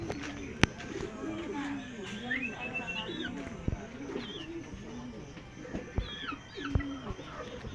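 Several domestic pigeons cooing and calling from a loft rooftop during early club racing training, with soft repeated coos, occasional wing claps and other bird calls over low background noise and intermittent talk.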